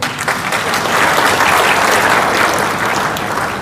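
A large audience at a political rally of Hindus and Muslims sharing one stage breaks into loud, sustained applause, a dense wash of clapping that holds steady for several seconds.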